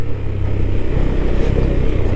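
A motorcycle ridden over a dusty road of loose, fine soil with almost no traction: a close, steady engine rumble with gritty clatter and wind noise, continuous and loud throughout.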